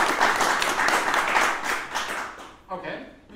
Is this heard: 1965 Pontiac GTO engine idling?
no